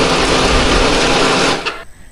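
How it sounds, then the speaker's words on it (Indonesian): An electric blender whirs loudly as it grinds a spice paste with water, a steady dense roar for about a second and a half before it cuts off and spins down. "Hari ini aku menghaluskannya pakai blender."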